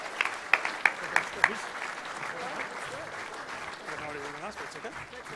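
Clapping from the audience at a TAC Cup Best & Fairest awards night for the 2017 Girls Team of the Year, a few sharp close claps over steady crowd applause, with a voice talking over it as the clapping carries on.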